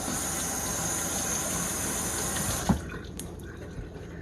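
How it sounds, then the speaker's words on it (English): A kitchen tap runs in a steady loud hiss while hands are rinsed, then shuts off abruptly with a knock partway through, leaving quiet room tone and a faint clink. "Let me rinse my hands out."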